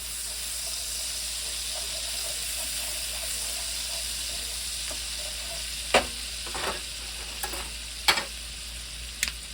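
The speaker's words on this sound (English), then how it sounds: "as we're frying off our ginger and garlic here" Constant crackling sizzle of ginger and garlic frying in hot oil, with a few sharp clinks and scrapes of a utensil toward the end.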